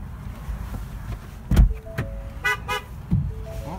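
Two or three short Ford Edge horn toots sound close by amid low vehicle rumble and a few clunks.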